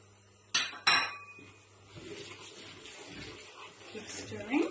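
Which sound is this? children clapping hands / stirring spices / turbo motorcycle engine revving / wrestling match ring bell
stirring spices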